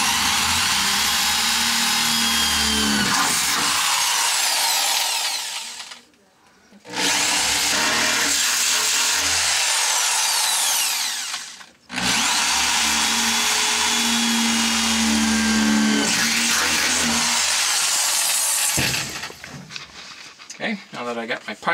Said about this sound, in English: first I'm just going to drill a pilot hole for each hole